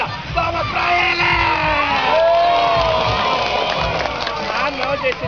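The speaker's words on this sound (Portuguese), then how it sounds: "Palmas para ele!" Children and adults cheer and shout for Palhaço Chocolate, a street clown performing in a park, a loud continuous mix of excited young voices and whoops filling the whole stretch.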